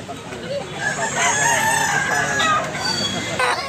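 A white-legged fighting rooster crows loudly and close, a long drawn-out call over a busy background of other birds and farmyard clucking.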